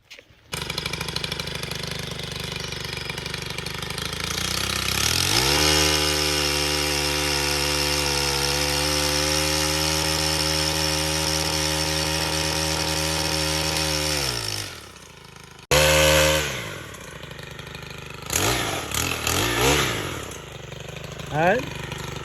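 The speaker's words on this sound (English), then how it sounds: "So we're going to just see if Karen's new Kombi chainsaw will work on this." A Kombi chainsaw bites into old porch wood, its engine snarling loud and steady for many seconds with shifting pitch as it cuts, then cutting off before brief revs and tool noises follow.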